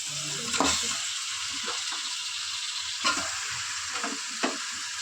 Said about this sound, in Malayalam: അപ്പോൾ മട്ടൺ ഇടാൻ പോവുകയാണ്